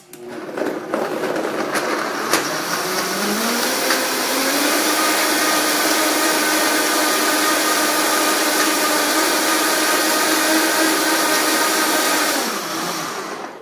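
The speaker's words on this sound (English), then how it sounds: "And we're going to blend it up." A countertop blender whirs through a spinach protein smoothie, starting with a few knocks before the motor spins up into a loud, steady high whine that holds for about ten seconds and then winds down.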